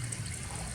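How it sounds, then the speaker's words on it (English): Cold water pouring into a container, a brief soft gushing splash, faint and steady with no other sounds. "I like seeing this reaction when I start adding in the cold water"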